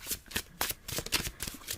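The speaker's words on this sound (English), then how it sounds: "Hopefully this isn't like crazy loud, the shuffling." A deck of oracle cards is shuffled close to the microphone in quick, crisp riffling bursts, roughly a dozen rapid flicks in under two seconds, with no talking.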